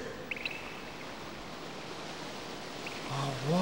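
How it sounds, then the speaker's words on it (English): Steady broadband roar of a cartoon waterfall, continuous and fairly loud throughout, swelling slightly near the end as a voice comes in over it. "A waterfall."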